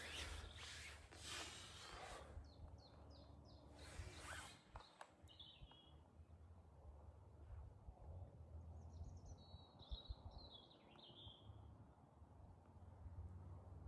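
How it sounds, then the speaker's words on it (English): Birds by a calm lake chirp in short, bright bursts, some quick repeated notes, faint and scattered over a soft outdoor hush with rustling nearby. "And all you can hear is the birds."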